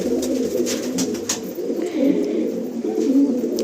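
Paired pigeons in a loft coo continuously and loudly up close, with overlapping low, rolling calls and no talking.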